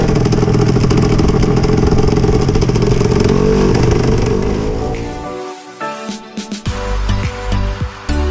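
125cc KZ1 shifter kart engine firing after a push start, first a loud, steady high-pitched two-stroke buzz, then dropping away into sputtering, crackling revs and blips close by.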